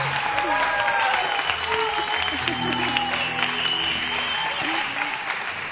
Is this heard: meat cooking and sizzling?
no